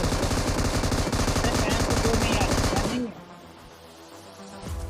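Rapid automatic gunfire from a BGMI mobile battle royale match, loud and dense for about three seconds before dropping off abruptly, with quieter game ambience and a brief burst near the end.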